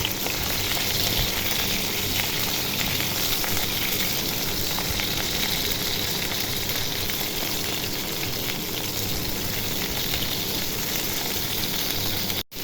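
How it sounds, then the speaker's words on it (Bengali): Brinjal and pointed gourd fry in hot oil with a dense, unbroken sizzle that holds steady and loud for over twelve seconds, close up and with no voices. "বেগুন পটল ভেজে নিব"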